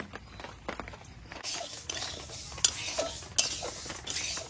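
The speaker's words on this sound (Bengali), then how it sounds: "এবার কড়াই বসিয়ে দেবো উনুনে। প্রথমে মুগ ডালটা ভেজে নেব।" Mung dal dry-frying in a wok makes a light sizzle, with rattling stirs and sharp metallic scrapes of the spoon against the pan.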